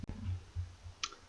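A single sharp mouse click near the start while working in Microsoft Access, close and quiet, followed by faint soft taps over low room hum.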